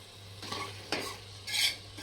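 Spicy chicken being stirred in a pressure cooker, three separate scraping strokes of a spoon against the metal pot with a faint sizzle beneath, close and alone with no voices.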